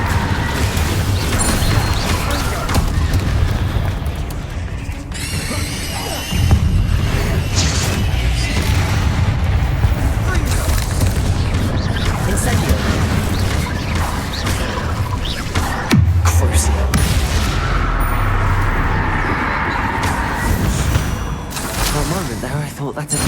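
Incendio fire spell blasts in the video game Hogwarts Legacy, set among constant loud combat crashes, booms and whooshes, with a few abrupt bursts standing out in the dense battle mix.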